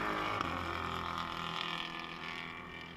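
A TCR touring car engine at Sonoma roars steadily at high revs, its tone rough and uneven from a misfire or lost cylinder, slowly fading slightly.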